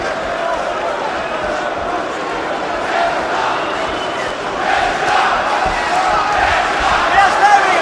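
A Welsh crowd at a boxing match between Joe Calzaghe and Mikkel Kessler roars in a continuous loud wash of cheering and shouting, swelling midway, while a commentator speaks over it.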